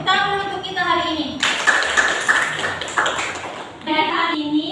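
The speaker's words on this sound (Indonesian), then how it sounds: "tepuk tangan dulu untuk kita hari ini" A class of students claps hands during a classroom lesson, a burst of rapid clapping lasting a couple of seconds, with a teacher's voice talking before and after it.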